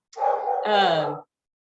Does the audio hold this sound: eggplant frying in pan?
no